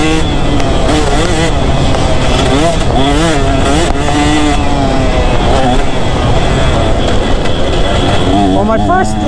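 A two-stroke dirt bike engine revs loud and close throughout a ride, its pitch rising and falling steadily as the rider works the throttle over a rough, rocky track.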